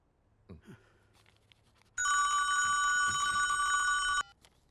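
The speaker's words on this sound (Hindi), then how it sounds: "कौन बार बार फोन कर रहा है?" A telephone rings indoors with a steady electronic ringtone that lasts about two seconds, loud and close, after a few faint soft sounds in an otherwise quiet room.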